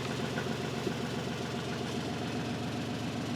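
A 35ft sailing yacht's inboard engine idles steadily, a continuous low mechanical drone with a fine rhythmic knock, holding even loudness throughout with no voices.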